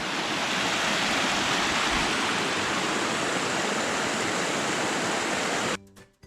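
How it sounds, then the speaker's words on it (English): A small river runoff stream flows in a steady, dense rush of water, loud and close, with no talk, cutting off abruptly near the end. "Got a nice little river runoff."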